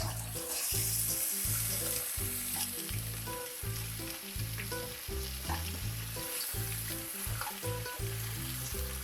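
Oxtail stir-fried in a wok with oyster sauce after being rinsed in boiling water, loud steady sizzling broken by rhythmic scraping stirs of a spatula, close and continuous.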